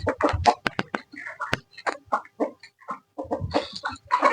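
A pet rooster gives short, close clucks in quick bursts, scattered among brief pauses in a quiet yard.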